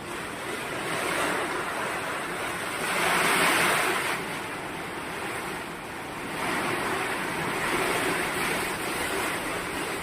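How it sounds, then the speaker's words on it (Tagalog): Strong typhoon wind roars and gusts over crashing ocean waves, a dense continuous wash of surf that swells and recedes in surges, loud and unbroken with no voices. "Lakas ng bagyo."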